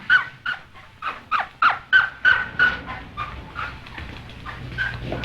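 A dog being shipped yelps and whimpers in a quick run of about eight sharp, high cries that fade into softer whines, with a low hum underneath.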